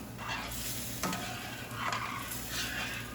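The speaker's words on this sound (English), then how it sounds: "But a metal spoon will do just fine, as long as we stick to our techniques, constantly moving" Dill risotto stirred constantly with a metal spoon in a pan, a steady simmering sizzle with repeated soft scraping sweeps and a clink near the start, close and no talk.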